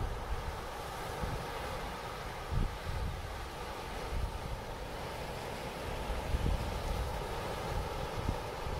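Steady wind blows at a beach in Japan where people are surfing, a constant broad rush with soft gusts over faint surf.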